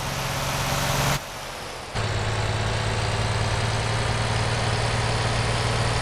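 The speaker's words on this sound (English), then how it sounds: "Sounds like a Renault Magnum too." A Renault Magnum truck engine idles in the MotorTown video game, a steady loud low rumble that cuts out briefly to a muffled hush, then resumes evenly and continues without change.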